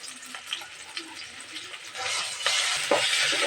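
Chili, onion and spices hitting hot oil in a pan for a shing fish curry, soft stirring taps at first, then a louder, brighter sizzle that builds and holds.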